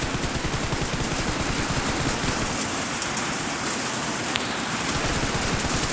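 Rapid automatic gunfire from the battle royale game PUBG rattles in a dense, continuous stream of sharp shots, loud and steady throughout.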